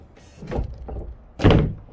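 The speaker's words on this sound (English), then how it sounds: "open the door and close the door. It'll lock out by itself." A door fitted with a HOOWISER fingerprint lock swings open and shut, a couple of close thuds and latch clunks, the last one loudest.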